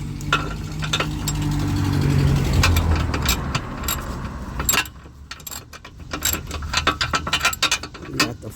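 A ratchet wrench works a side step bar bolt loose on a Honda CR-V, close rapid metallic clicking over a low mechanical rumble, the clicks continuing in a brisk uneven rhythm.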